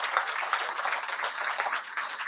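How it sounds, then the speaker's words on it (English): A crowd claps steadily throughout, a dense patter of many hands at moderate loudness with no voices on top. "Let's give them a round of applause."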